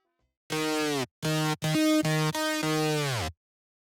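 A midtempo electronic track's synth bass patch played as a lead sounds in a short phrase of sustained, buzzy harmonic notes with gaps between them, close and alone.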